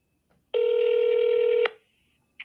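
A phone dials out: a single loud, steady tone holds for about a second, then cuts off with a click, followed by near silence and a faint blip.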